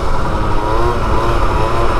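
A Yamaha YZ125 two-stroke motorcycle pulls a wheelie stunt, its engine droning loud and steady throughout at close range, with no talk over it.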